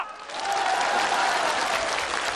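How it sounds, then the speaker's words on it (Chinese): A studio audience at a comedic sketch breaks into steady, dense applause that swells slightly and holds evenly, loud and close, with no voices over it. "同意老王头对店的， 请鼓掌"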